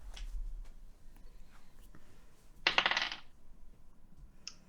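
Percentile dice clatter in one short, bright burst during a tabletop roleplaying horror game, close and alone after a quiet stretch with a faint tick or two.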